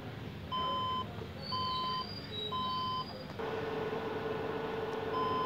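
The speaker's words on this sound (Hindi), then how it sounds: "आप ये बीप सुन सकते हो," An HP computer with a red light and no display, signalling a graphics fault, sounds a series of evenly spaced electronic error beeps, each about half a second long. A steady background hum joins partway through.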